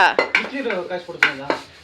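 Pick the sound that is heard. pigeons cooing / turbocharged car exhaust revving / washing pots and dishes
washing pots and dishes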